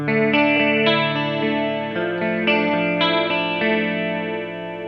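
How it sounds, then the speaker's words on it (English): An electric guitar plays sustained, ringing distorted chords through a Free The Tone Flight Time pedal with a chorus effect applied, a new chord struck about every half second to a second, loud and continuous. "keep the chorus from getting muddy or very harsh when using it with distortion"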